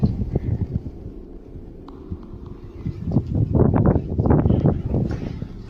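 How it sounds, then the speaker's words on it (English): Wind gusting around an abandoned house, a low rumbling rush that swells and buffets the microphone, with faint knocks and rattles mixed in, rising louder toward the end. "noting that you can hear the wind and see the plants moving outside."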